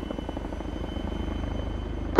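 A helicopter in a video game flies nearby with a steady rhythmic rotor chop throughout, ending with a brief sharp sound.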